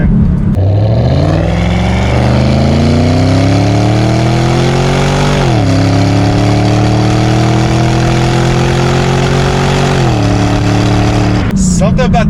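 A 2013 Chevrolet Camaro ZL1 V8 roars on the road, its deep engine note climbing steadily through one gear, dropping at a shift, then rising again, loud and close throughout.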